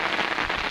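Heavy rain pounds down in Busay during a downpour with flooding, a dense, loud, steady hiss of drops with no voices.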